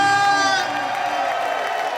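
Outdoor summer concert crowd in Piazza Manzoni, Jesolo, roaring and cheering on the singer's cue, a loud sustained wash of shouting voices that starts with a bright held vocal note.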